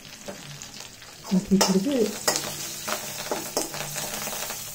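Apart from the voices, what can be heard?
chutney ingredients frying in pan on stove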